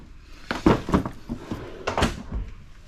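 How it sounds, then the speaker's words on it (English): RV cabinet doors and drawers in a 2025 Flagstaff Microlite 25SRK trailer being shut, a few quick close thumps and clacks in a short cluster, near and unaccompanied. "make sure all doors and drawers are closed"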